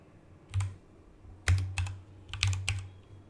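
Several short bursts of typing on a computer keyboard, a few clustered clicks at a time with brief pauses between, close and fairly quiet, with no talking.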